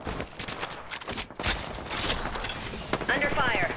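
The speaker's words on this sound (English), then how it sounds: "Opening fire." Bursts of gunfire in an Apex Legends match, clustered shots over busy in-game effects and character voice callouts, moderately loud and irregular.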